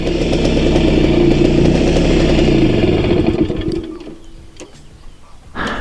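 A Simson S51 motorcycle engine runs loudly and steadily with a clattering idle, then cuts out partway through, leaving a quiet lakeside hush and a brief rustle at the end.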